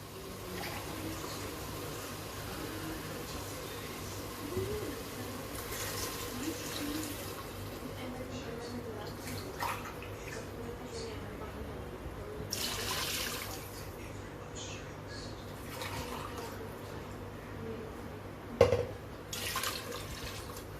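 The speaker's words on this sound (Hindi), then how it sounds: "और इसमें 3 ग्लास ये पानी के डालूंगी।" Water poured from a medium glass, three glassfuls, onto meat in a cooking pot while making haleem, a steady soft trickling and splashing heard up close at low volume, with a few brief clinks.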